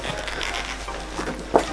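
A zipper on an authentic Louis Vuitton bag rasps as the bag is pulled apart, a brief close scraping run ending in a sharp snag.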